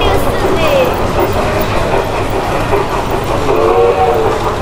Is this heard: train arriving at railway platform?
yes